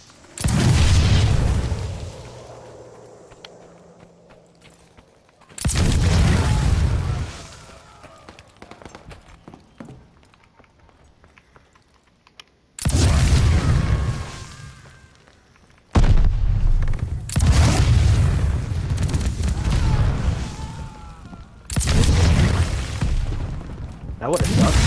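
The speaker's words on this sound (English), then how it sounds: "Throwing grenade!" Loud, booming grenade blasts from a video game shooter, several heavy bursts spread across the span with quieter gaps between them and voices talking underneath.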